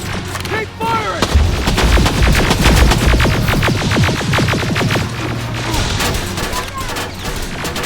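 Rapid, loud gunfire from the Terminator Resistance video game on the Annihilation Line level, dense bursts of shots and crashing impacts that continue without a break, with voices shouting over the shooting.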